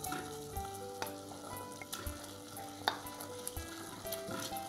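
Softened stewed leek heating in a pan with melted processed cheese, a steady quiet sizzle and bubbling frying hiss with occasional stirring taps, close and alone without voices.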